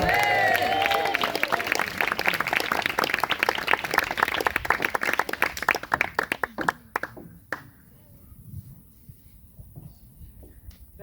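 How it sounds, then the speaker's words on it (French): Loud applause from a comedy club audience, dense hand clapping that holds steady for several seconds, then thins into scattered claps and fades out near the end. "je vais vous demander de faire un tonnerre d'applaudissements pour notre guest star, Jacqueline"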